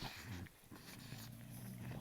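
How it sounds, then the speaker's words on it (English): Several dogs make a lot of noise indoors, low growly barks and grumbling sounds running continuously and fairly loud across the short stretch. "my dogs are very loud today. They are just making a lot of noise."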